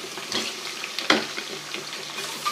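Chicken frying in a pan with garlic ginger paste over a medium flame: a steady soft sizzle with occasional stirring scrapes and one sharper clatter, close and fairly quiet, with no voices.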